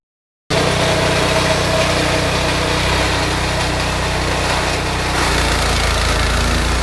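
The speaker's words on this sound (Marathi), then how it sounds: "चला तुम्हाला आता या कडबा कुट्टी मशीन मध्ये कडबा कुट्टी करून दाखवूया" A high-speed chaff cutter machine runs steadily while chopping coconut fronds for fodder, its motor giving a loud, constant droning hum with a slight shift in tone partway through, no talking.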